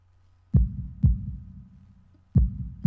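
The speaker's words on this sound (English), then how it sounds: "holding my breath in an attempt to hear my heartbeat" Heartbeat sound effect from the Katawa Shoujo visual novel: deep, thudding beats, two close together, a pause, then two more, loud and alone.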